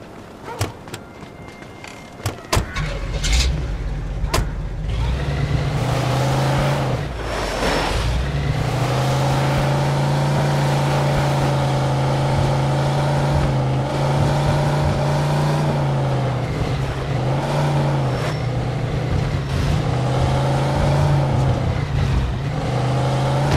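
A car drives steadily in Mafia 2, its engine droning at a constant, close hum with slight pitch swells as it accelerates and shifts, after a few sharp clicks and thuds at the start, with no talk.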